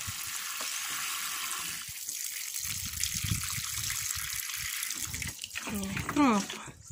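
Water sprays and gushes from a hose while watering a vegetable garden, a steady hiss close by that shifts in strength, with a person talking over it and a brief higher-pitched squeak near the end.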